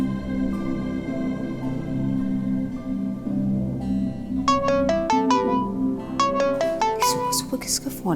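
A phone rings in a repeated electronic melody during a Pakistani drama scene, rising over a steady low background of music and room tone, with the ringtone bursts growing louder toward the end.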